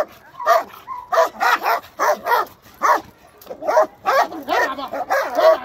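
A guard dog barks fiercely and repeatedly at a man posing as an attacker with a stick, rapid close bursts of loud barks with brief pauses between.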